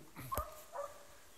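A dog gives a couple of short, faint yips or whimpers outdoors, two brief calls about half a second apart.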